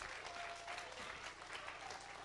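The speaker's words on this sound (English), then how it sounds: "Give her a round of applause" Church congregation applauding at a Baptist service, a dense steady wash of clapping held at even loudness throughout.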